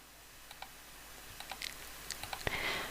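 Several soft, sparse clicks from a computer mouse, close and fairly quiet against a faint background hiss, with a louder burst near the end.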